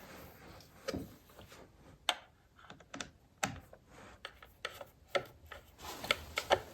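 Close, irregular clicks and ratcheting come from screwing a JOINTEC jig down onto a miter bar, with scattered sharp taps between quieter stretches.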